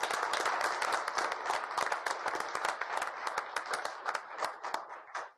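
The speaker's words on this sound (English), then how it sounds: "let's give a big round of applause for Rio Rancho Public Schools" Steady, dense applause from an audience at the Rio Rancho mayoral candidate forum, thanking Rio Rancho Public Schools. The clapping holds fairly even throughout and fades only at the very end.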